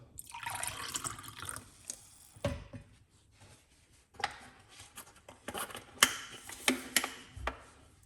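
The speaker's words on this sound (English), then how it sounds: "we're just gonna put some water" Water splashes and trickles in uneven bursts, with drips and a few clinks, close by and fairly quiet.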